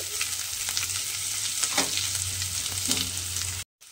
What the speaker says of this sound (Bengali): পেঁয়াজটা কিন্তু এইভাবে একটু সময় ভেজে নিতে হবে।